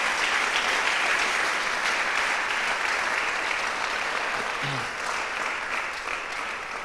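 A church congregation applauds steadily, a dense wash of clapping that holds at an even level the whole time, close and fairly loud.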